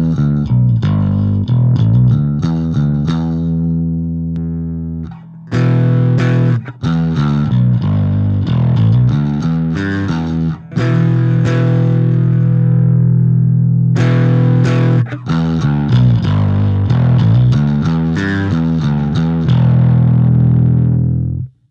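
A bass is played through an Ampeg RB-108 combo amp with its overdrive switched on, giving loud, gritty distorted notes and riffs that ring on continuously with brief pauses, with no talking.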